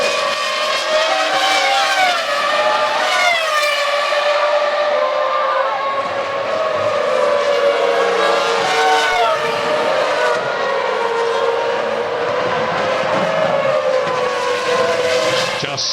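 Formula 1 race cars at Monza during the 2001 Italian Grand Prix, engines screaming at high pitch with rising and falling gear changes as cars pass, loud and continuous throughout.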